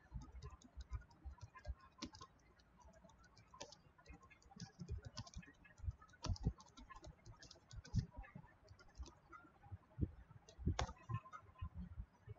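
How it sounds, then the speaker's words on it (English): Typing on a computer keyboard, uneven bursts of faint close key clicks and taps with brief pauses, quiet throughout. "we type Google, we will maximize this screen, and I'll type the name of the post here"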